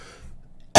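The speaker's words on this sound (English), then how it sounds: "cough because of seasonal allergies" A single short, loud cough from someone with seasonal allergies, bursting out at the very end after near silence.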